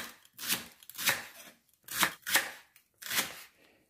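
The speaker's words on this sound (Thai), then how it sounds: "หอมญี่ปุ่นนี่ก็หั่นแว่นแบบนี้ค่ะ" A knife slices Japanese leek into rings on a board, giving five or six soft, crunchy cuts at an uneven pace, close and quiet with nothing else around.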